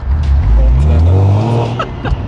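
A BMW E92 M3 engine revs hard under acceleration, a loud, steady low drone climbing in pitch for about two seconds, close up, with a voice speaking over it briefly.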